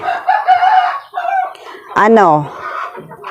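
A rooster crows loudly and close, with hens clucking around it in a busy, noisy coop.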